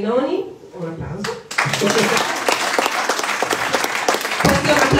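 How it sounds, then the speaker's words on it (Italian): Audience applause breaks out at a church gathering after a brief spoken introduction, a dense, steady wash of many hands clapping that holds loud and sustained for several seconds. "un applauso."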